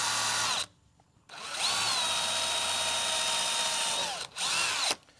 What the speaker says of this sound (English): I'm gonna be going in with a pilot hole for my screw